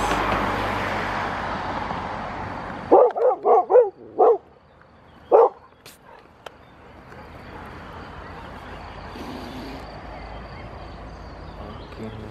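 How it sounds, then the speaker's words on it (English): A dog barks outdoors, five sharp, loud barks in quick succession followed by a pause and one more, set against steady wind or traffic noise before and after. "dog is barking"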